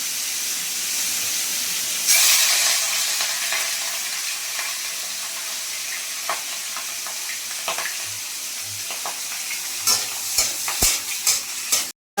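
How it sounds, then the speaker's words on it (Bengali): Prawns fry in hot oil in a wok with bottle gourd nearby, giving a steady hiss and sizzle. Scattered clicks and scrapes of stirring grow more frequent toward the end. "লাউ দিয়ে এখানে চিংড়ি মাছটা ভেজে নিই।"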